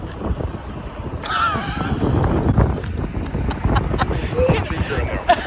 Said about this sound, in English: It's a windy day, but we're ready.